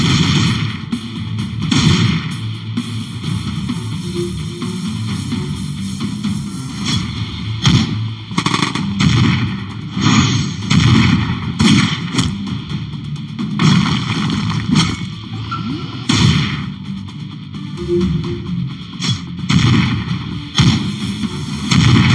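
Dense, continuous bursts of gunfire and explosions from a battle in the game Last Fortress: Underground, with robot weapons firing, loud and close, with repeated sharp blasts over a rumbling background.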